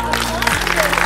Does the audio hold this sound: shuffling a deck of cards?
no